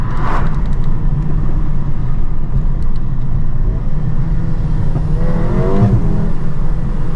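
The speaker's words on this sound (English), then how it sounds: "Gives you a little pop crackle." A 2024 facelift Mercedes-AMG A35 engine revs hard and steadily, loud and close, with the exhaust note swelling near the end.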